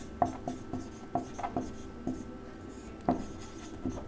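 A pen writes on paper while someone works through a math problem about a cube's volume, giving soft, quiet scratching strokes in irregular short bursts with small taps between them.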